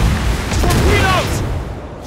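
A torpedo strikes a warship in World of Warships Blitz, a game explosion that lands as a dense, roaring low boom and swells through the first second before fading into a rumbling wash over about two seconds.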